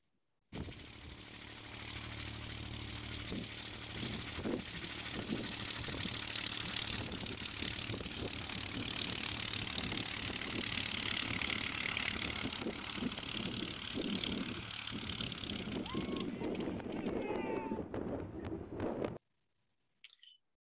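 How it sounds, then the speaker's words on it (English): A replica of the 1903 Wright Flyer, built exactly like the original with the same engine and propellers, runs with a steady mechanical clatter and drone for about twenty seconds before cutting off abruptly, with no talking. "witnessing their first attempt to fly the machine built exactly as Orville and Wilbur had it, same propellers, same engine, same everything"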